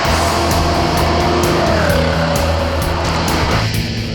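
A race car pulls out of the pits onto a wet, very slippery track during the Cannonball event, its engine droning loud and steady with a rising pitch sweep as it accelerates, heard from on board.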